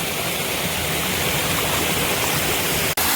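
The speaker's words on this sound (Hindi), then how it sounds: "ये बहुत बढ़िया झरना गिर रहा है सड़क पे, क्योंकि सड़क अभी बहुत नई है।" A waterfall pours onto a brand-new road, a steady, loud, broadband rush of falling water that fills the whole stretch without pause, close by, with no voices over it.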